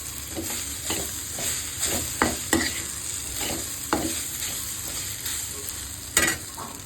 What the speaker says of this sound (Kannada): ಹಾಕೊಂಡು ಫ್ರೈ ಮಾಡಿ